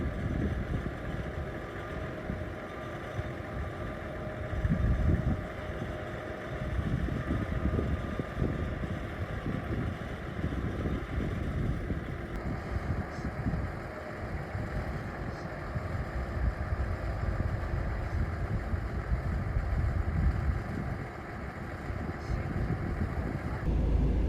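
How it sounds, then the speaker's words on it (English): Tractor engine idling and rumbling at a steady low pitch through the whole stretch, arriving on a dark Arctic road to pull out a crashed van, with faint background voices mixed in. "The tractor's here now"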